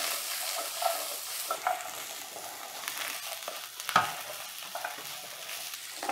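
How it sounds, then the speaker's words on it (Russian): Vegetables stir-fry in a hot wok for a spicy Sichuan beef dish, giving a soft, steady crackle with faint scraping and a single louder clatter midway. No one speaks. "Возвращаю вок на огонь и добавляю овощи. Мне нужно быстро их обжарить"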